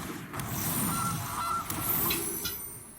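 Goose card in the video game MTG Arena: a few sharp honks ring out over a steady game backdrop, moderately loud and close, with no talking.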